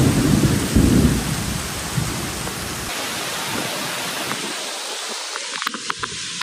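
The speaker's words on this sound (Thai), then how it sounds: "ไม่ได้ตกเฉยๆแล้วเม็ดฝน อันนี้มาเป็นทั้งก้อนเลย" A heavy afternoon storm at a Thai temple, with rain mixed with hailstones: a loud roar of downpour and rumbling thunder at first, then a thinner patter with scattered sharp knocks.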